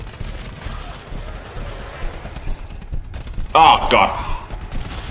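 Enemy gunfire in GTFO rattles in quick bursts, mixed with a bright mechanical sound effect and a short exclamation from a player.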